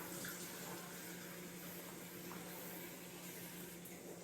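Water pours steadily from a cup into a pot of orange peel for fruit jam, a continuous even splash and rush with no breaks, close and fairly soft.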